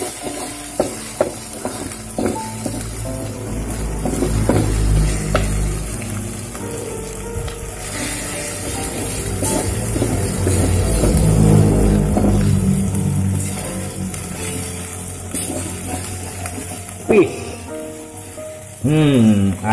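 Eel stir-fry with oyster sauce is stirred slowly in a hot pan, giving a steady rain-like sizzle with occasional scraping bursts, while voices talk over it.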